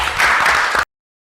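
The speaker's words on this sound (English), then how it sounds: "So a round of applause for them," A conference audience gives a short burst of dense applause for presenters, less than a second long, then it cuts off into silence.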